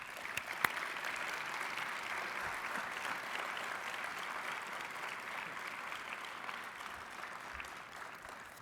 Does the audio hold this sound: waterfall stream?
no